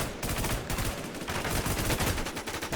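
Dense, continuous gunfire in the video game Warz, rapid overlapping shots and bursts filling the whole stretch at a steady loud level, with no voices.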